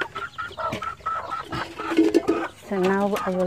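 Chickens cluck and squawk nearby in a backyard coop during feeding and watering, repeated clucks with a drawn-out call near the end, while someone talks over them.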